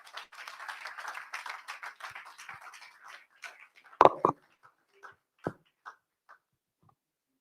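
An audience claps hands to welcome a speaker, a light scattered round of clapping that thins out into a few isolated, sharper claps before stopping.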